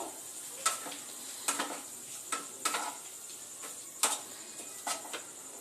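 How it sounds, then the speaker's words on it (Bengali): Washed chicken fries with spices in a kadai over a raised gas flame, with a steady soft sizzle broken by repeated scraping stirs that land every second or so, close and with no voices. "এবার খুব সুন্দরভাবে মশলার সঙ্গে চিকেনটাকে"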